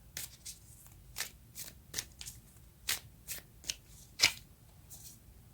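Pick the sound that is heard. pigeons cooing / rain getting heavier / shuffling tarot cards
shuffling tarot cards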